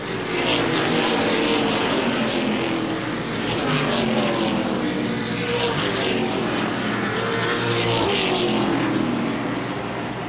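Late model race cars roar around the Baer Field Speedway oval during a feature race, a loud, continuous engine drone that swells and fades slightly as cars pass.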